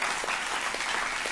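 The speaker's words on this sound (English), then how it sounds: "let's give God a hand clap" A church congregation claps together in a dense, steady burst of applause, loud and sustained without voices over it.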